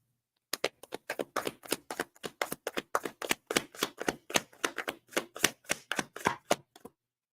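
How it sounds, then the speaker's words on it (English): Tarot cards shuffled by hand in a steady, rapid run of crisp slaps and taps, about two dozen in a few seconds, close and fairly quiet, with no talking. "I shuffled the hell out of all these cards"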